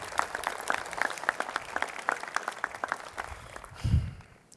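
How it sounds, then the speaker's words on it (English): A university investiture audience claps in a lively round of applause that fades out toward the end, with a low thump near the close. "please join me in giving them a round of applause"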